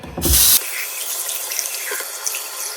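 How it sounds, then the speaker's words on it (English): Cold tap water runs over ink-printed fabric for a quilt label: a loud, close splash in the opening half-second, then a softer steady trickle and drip continuing alone. "run this under cold water for 30 seconds or until the ink stops running off"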